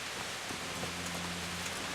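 Steady rain in the Kingdom Come: Deliverance video game, an even wash of hissing patter that fills the whole stretch, with a faint low tone humming underneath and no talking.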